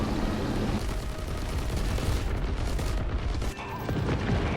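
Cannon shells firing and exploding in the video game War Thunder, a dense, continuous rumble of booms and blasts with no clear breaks.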